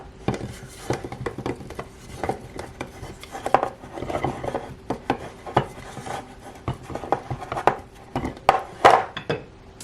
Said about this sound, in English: And now I am going to butter the sides.